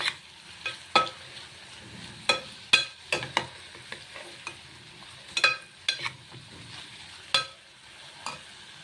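Spoon stirring a carrot and radish (mullangi) fry in a pan, with repeated sharp scraping clicks and a soft sizzle underneath, close and fairly quiet, no talking.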